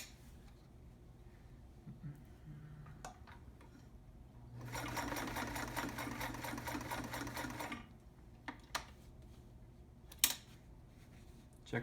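A vintage Sears Kenmore 158.13200 heavy-duty sewing machine stitches through four layers of fabric in a steady run of about three seconds, with quiet handling clicks before and after.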